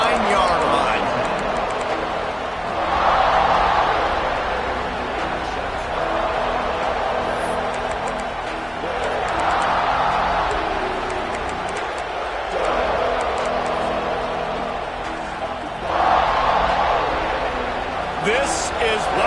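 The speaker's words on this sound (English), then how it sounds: "This crowd ready to make its presence known" Broad stadium crowd roar at a Florida college football game, swelling in several waves over steady wash of noise, with a commentator talking over it.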